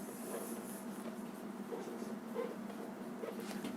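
A marker squeaks and scratches across a classroom board in short strokes, faint and close, with a quiet room hiss behind it.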